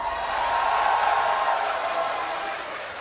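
A crowd at an esports arena during the PAX NA Regionals match between CLG and Legion makes a loud, steady roar that holds for a few seconds and eases slightly near the end.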